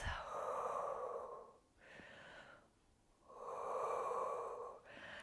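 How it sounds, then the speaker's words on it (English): Deep breathing during a standing calf stretch in a seniors' Pilates session: two long, loud close breaths, each lasting over a second with a quieter pause between. "taking a couple of deep breaths."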